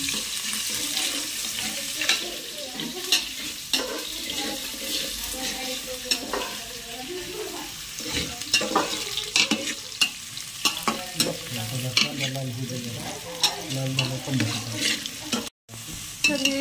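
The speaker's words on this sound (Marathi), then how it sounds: "पहिल्यांदा कांदा लय भारी भाजून घ्यायचा" Onions sizzling and frying in hot oil for dum biryani, with a spoon repeatedly stirring and scraping the pan in an irregular rhythm, close and continuous.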